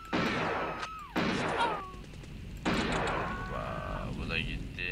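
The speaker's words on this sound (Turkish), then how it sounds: "Neden silah sıkıyor la bu?" A gangster firing a gun in the video game Bad Day L.A., rapid bursts of gunfire in several loud volleys with short gaps between, heard alongside game effects and someone talking.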